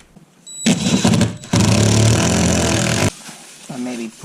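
Power drill driving quarter-inch galvanized lag screws to secure a trash compactor inside a school bus conversion: two loud, close bursts of whirring motor, the second longer, ending with a brief trailing sound.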